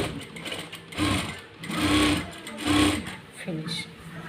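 A sewing machine stitches along a saree edge and then runs a reverse stitch. It gives close, rapid mechanical whirring in several short bursts with brief pauses, under a voice talking throughout.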